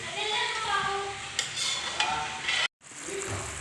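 Cooked glutinous rice being stirred into thickening coco jam for Laguna-style sinukmane, with a soft, wet, sticky churning and faint sizzle, broken by a couple of sharp spoon knocks and a brief pause.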